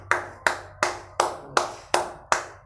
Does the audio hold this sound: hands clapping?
yes